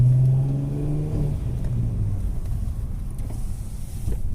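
A Nissan Skyline R32 engine rises in pitch as it accelerates, then settles into a lower rumbling drone, close and fairly loud, with no talking.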